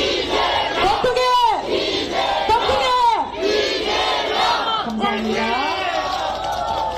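A large crowd at a South Korean political rally chants a slogan in loud unison bursts and cheers, rhythmic shouted calls rising over general crowd noise, with a voice briefly speaking near the end.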